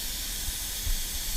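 A DeVilbiss GTI 110 spray gun lays down clear coat lacquer in a continuous, even airy hiss, steady and close with no pauses.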